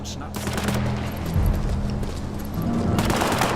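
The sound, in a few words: gunfire in War Mongrels video game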